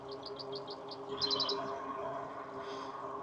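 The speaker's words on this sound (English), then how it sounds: "The birds are really chirping nicely today." Birds chirping outdoors, a quick run of repeated high tweets followed by a brighter burst of calls, with faint steady background hum underneath.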